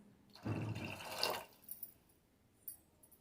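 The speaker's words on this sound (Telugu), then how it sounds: "దీంట్లో వాటర్ పోసేద్దాం" Water is poured into tamarind rasam simmering in a pot, a short splashing gush lasting about a second, followed by a few faint drips and small clinks.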